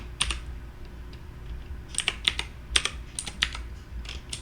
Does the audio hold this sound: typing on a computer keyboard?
yes